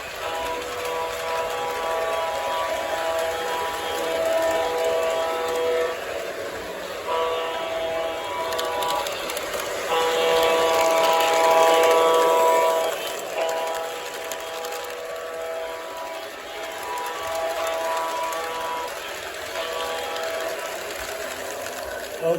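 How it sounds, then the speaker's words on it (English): A Santa Fe train hauls 30 pounds of railroad spikes, sounding a sustained horn-like tone that swells and fades over a low rolling rumble. The sound runs loud and continuous throughout. "This is a strong train right here. Really powerful."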